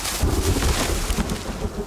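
Steady rain and rolling thunder in the survival video game The Forest, a dense, loud wash of falling water with low rumbles and gusty wind, heard alone without voices.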